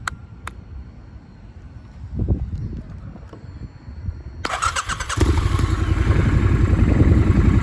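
A 2019 Triumph Scrambler 1200 XE motorcycle is started with the clutch squeezed, giving a few clicks and a brief crank before the engine catches and settles into a loud, steady, close idle with no talk.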